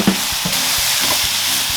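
Instant noodles sizzle and hiss in a hot wok with oyster sauce as a utensil scrapes and stirs with quick, rhythmic knocks, close by.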